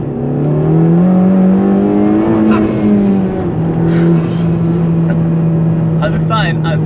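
A Honda Civic Type-R FK2 pulls hard in first gear, its engine note climbing steadily and loudly from inside the cabin, with people talking over it.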